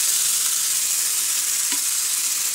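Cumin, chili powder and turmeric sizzling in hot oil in a pan for a ridge gourd peel chutney, a steady bright hiss with one soft stir clink, close and unbroken.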